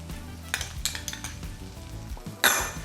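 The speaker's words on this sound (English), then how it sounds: "we're just gonna get that a mix like this and get it all mixed up" A utensil clinks against a dish while melted butter sauce with parsley and garlic powder is mixed, with a few light taps, soft scraping, and a sharper clatter near the end, close up with no talk.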